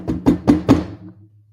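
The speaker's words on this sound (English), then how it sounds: "There was a knock at the door." Three quick knocks on a door, sharp and close, evenly spaced, then a short fading resonance with no voices.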